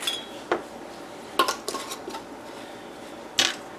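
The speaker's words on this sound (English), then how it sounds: "Put on a hot lid" A hot metal lid is set onto a glass canning jar of apple pie filling, giving a few light metallic clinks and taps spread over a few seconds, faint and close.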